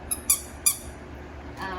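Tiny rubber toy ducks give three quick, high-pitched squeaks in close succession, followed by a softer faint squeak a moment later, heard close up with no talking.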